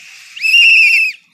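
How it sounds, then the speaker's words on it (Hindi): A loud whistle blown once near the microphone, a single shrill sustained tone lasting under a second with a sharp start and end, alone with no talking. "इस सीटी की जो आपने आवाज़ गूंजाई है"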